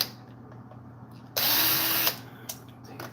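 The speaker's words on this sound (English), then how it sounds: "I feel like this one we can take the 5/16 socket and crack that loose." A 5/16 socket on a power tool or ratchet works a screw loose during a chainsaw restoration, giving one loud, steady whirring burst of under a second, followed by a few faint clicks in a quiet room.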